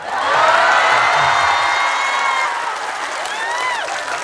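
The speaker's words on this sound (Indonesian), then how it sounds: "Berikan tepuk tangan, boleh." An audience at a religious lecture bursts into applause and cheering, loud at first and then thinning, with a few whoops and some high whistle-like tones near the end.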